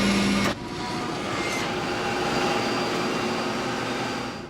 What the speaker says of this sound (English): Then there was kind of a grinding noise.